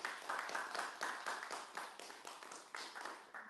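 An audience in a seminar room breaks into close applause, a quick run of sharp, overlapping hand claps that rises and falls in rhythmic bursts with no one speaking.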